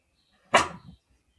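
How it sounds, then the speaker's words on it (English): A single short dog bark, close and fairly loud, with a quick yelp-like tail, then silence. "what's wrong with the dogs?"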